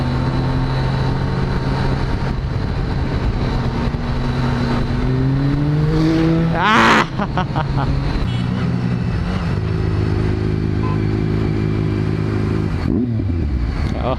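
A Triumph Daytona 675R sport bike with Öhlins suspension, Brembo brakes and carbon fibre parts, ridden in Mumbai: a steady, loud engine and exhaust drone under wind rush. Revs climb sharply midway, then the engine settles back into a constant cruise.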